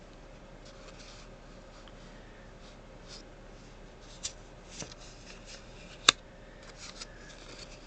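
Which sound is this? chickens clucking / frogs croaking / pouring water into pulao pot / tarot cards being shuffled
tarot cards being shuffled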